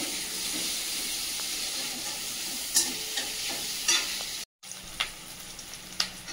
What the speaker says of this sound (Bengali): কুচানো পেঁয়াজটা ভাজা ভাজা করে নিয়েছি